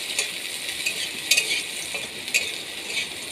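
Chopped onions fry in a pan for an egg paratha, with a steady, soft, hissing sizzle and occasional light scraping of stirring, heard up close.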